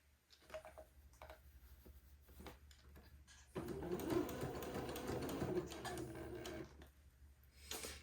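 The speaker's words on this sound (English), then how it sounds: "I will commence sewing, taking my pins out as I come to them." A sewing machine stitching cotton fabric for a baby daygown, with a steady mid-level mechanical whir running for a few seconds between quieter handling noises.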